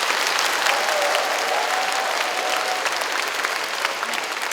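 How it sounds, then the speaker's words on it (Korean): An audience at a special lecture applauding themselves, a loud, full burst of many people clapping that carries on evenly and unbroken, with a faint voice briefly surfacing underneath. "여러분들 스스로에게 잘 견뎌온 나에게 여러분 박수 한번 보내주시기 바랍니다"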